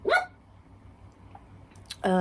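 A dog barks twice, close and loud, with sharp bursts at the start and end separated by a quiet stretch of room noise.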